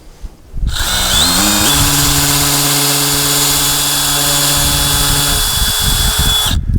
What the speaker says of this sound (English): Drill in kind of an upward angle, and go in about 2 inches